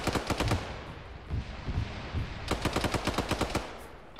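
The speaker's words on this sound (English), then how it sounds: "I was getting shot at." Machine-gun fire in the military game Arma, rapid bursts of close, sharp shots in two long strings separated by a few scattered rounds.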